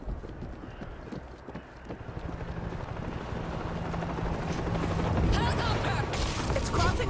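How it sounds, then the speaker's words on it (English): A helicopter crosses over a river in the video game World War Z, its rapid rotor chop growing louder and denser as it approaches amid ambient game sounds. "Helicopter! It's crossing over the river."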